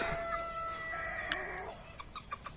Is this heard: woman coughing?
no